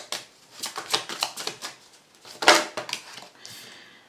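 Tarot cards are shuffled and drawn, giving a run of quick papery riffles and flicks, close and fairly loud, that build to a sharper burst before a softer slide of cards at the end. No one speaks.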